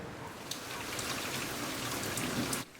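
Spring rain patters steadily on a shade tent sheltering hanging orchids, a soft, even hiss of drops with a few brighter taps, continuous and fairly quiet before cutting off near the end.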